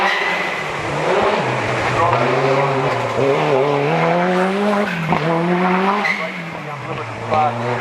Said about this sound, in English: Millen, just about to head up the driveway in his ex-Pike Peak Celica